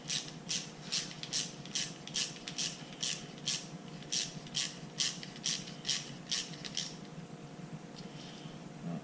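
A propane hose fitting on a Devil Forge DFSW2 forge burner being tightened, heard as a run of about a dozen evenly spaced ratcheting clicks close by over a faint steady hum, then quiet.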